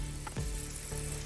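Flour-dusted beef pieces brown in a hot pan for a beef vegetable stew, giving a steady close sizzle with a brief clatter partway through.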